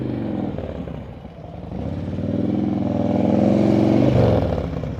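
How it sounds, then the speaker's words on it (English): A motorcycle engine during an advanced slow-speed riding practice session, revving close by with a steady drone that sags as the bike leans into a turn and then climbs again. "See how you hear the engine go down at every turn, right?"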